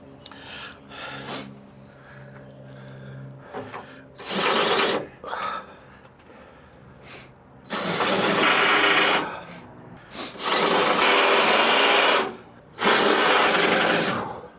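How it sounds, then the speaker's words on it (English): Power drill boring through metal while a fifth wheel hitch is installed on a 2007 Ford F250, several loud bursts of grinding whir lasting one to two seconds each, separated by pauses with quieter clinks and rustling. "Drill getting hot."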